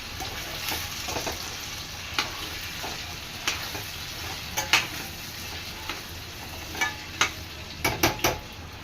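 Potatoes frying in a pan give a steady sizzle, broken by sharp scrapes and clinks of a spoon stirring them at irregular intervals, nearby and without speech.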